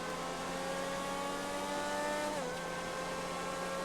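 An X80 car engine in GTA 5 holds a steady, loud droning rev, with a brief pitch dip partway through like a gear change, and no voices.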